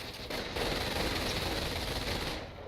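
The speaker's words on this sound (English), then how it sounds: "MG42 suppressing most of it though" An MG42 machine gun in the World War II strategy game Company of Heroes rattles off a dense, continuous burst during a battle in Paris, a steady low-level roar of rapid fire heard from afar without voices.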